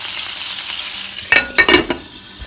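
Homemade veal burgers fry in a pan of grease, a low hissing bed before a few sharp, bright bursts of crackling and spattering near the end, close and with no talk.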